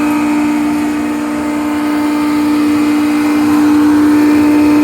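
A rebuilt McCormick No. 4-E hammer mill, driven by a Leeson electric motor and blowing through a cyclone, runs with a loud, steady, unbroken drone and a strong constant hum close by.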